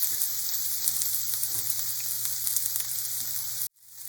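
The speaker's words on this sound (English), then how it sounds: "I'm going to take these onions and let's see here, sizzle" Sliced purple onions sizzle in a hot pan for a sausage and onion meal, a loud, steady close frying hiss that cuts off abruptly near the end.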